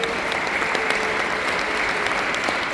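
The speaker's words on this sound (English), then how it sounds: "very big round of applause" Dense, continuous applause fills the hall at a business training seminar in Budapest as a business development chief officer is introduced, a steady wash of many hands clapping throughout.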